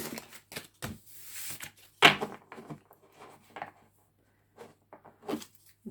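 Tarot cards are shuffled by hand in irregular bursts of soft riffling and slapping, with short pauses between handfuls and a louder snap partway through, close and fairly quiet with no talking.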